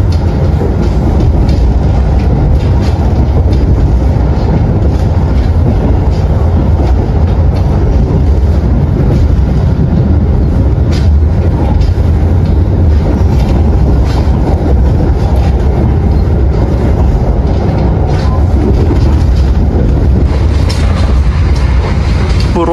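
Loud, steady train rumble with rattling wheels and rushing wind, as two passenger trains pass each other and rail cars roar past at close range.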